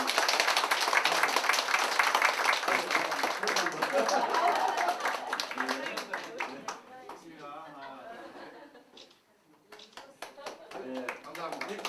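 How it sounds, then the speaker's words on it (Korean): Audience at a Korean lecture event applauds, a dense spread of clapping that starts full and fades out, with voices talking over it as it dies away. "우리 뜨거운 박수로 전달하겠습니다."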